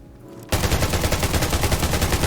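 Rapid bursts of gunfire in the game Undawn erupt after a brief quiet start, dense and loud with a steady rattling rhythm like automatic weapons.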